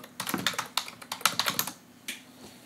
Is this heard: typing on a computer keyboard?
yes